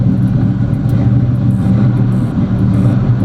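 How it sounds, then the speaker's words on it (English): A Box Chevy car engine with a chopping cam idles close and loud, a steady low rumble with a lumpy, uneven pulse and no talking. "this car, it runs beautiful. It sounds fantastic."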